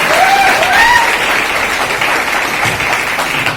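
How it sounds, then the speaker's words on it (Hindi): A crowd at a motivational speech by Ravi Raj Singh gives stronger applause for themselves, with loud, dense clapping that stays steady from start to finish. A few brief whistles rise over it near the start. "अपने लिए थोड़ी और दमदार ताली होनी चाहिए मेरे दोस्त"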